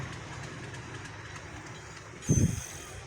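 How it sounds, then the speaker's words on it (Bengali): A low, steady rumble of a metre-gauge railway locomotive passing, with faint rhythmic clatter, then a brief louder thump near the end. "এদিকে লোকোমোটিভটা গেল"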